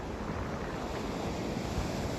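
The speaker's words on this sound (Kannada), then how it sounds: "ಅಲೆ ಎಲ್ಲ ಜೋರಾಗಿ ಬರ್ತೈತೆ." Strong ocean waves break and wash continuously on a hot beach, a dense, loud roar of surf with wind buffeting the microphone and no voices.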